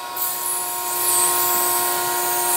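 Walnut shell media blasting carbon deposits off engine valves on a twin-turbo V6, a steady loud hiss of rushing air and grit with a continuous mechanical whine, close and alone.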